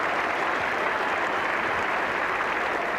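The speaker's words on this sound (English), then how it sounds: "And an applause there for the 250 partnership." Cricket crowd applause at a 1985 Ashes Test, a broad, even wash of distant clapping across the ground, steady and unbroken, with no distinct individual claps standing out.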